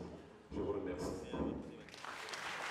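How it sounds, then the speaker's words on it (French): An audience starts applauding after a candidate's presentation at a political event. The clapping swells briefly at the end after someone speaks. "Sous vos applaudissements"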